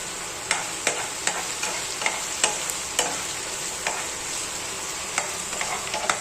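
Onions and mutton masala fry in a pan for paneer bhurji, giving a steady hissing sizzle with sharp, regular scraping clicks from stirring, close and fairly loud, with no voices.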